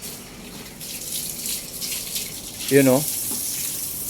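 Water runs steadily from a tap in a rented home, a soft continuous hiss that swells slightly, with a brief voice calling out near the end.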